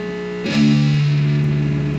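A single heavy, distorted electric guitar chug strikes once over a sustained ringing tone, then rings out steadily.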